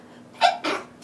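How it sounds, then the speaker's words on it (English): A single person's sneeze, a short sharp two-part burst with a quick intake and explosive release, close and alone. "I'm going to sneeze."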